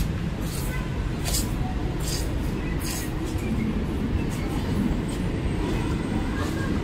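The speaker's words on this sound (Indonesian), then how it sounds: "Nah, ini dia akhirnya masuk komuter tujuan stasiun Kampung Bandan via Pasar Senen" A CRRC commuter train pulls into a station on the line to Kampung Bandan via Pasar Senen, its steady, loud rumble filling the whole stretch without a break.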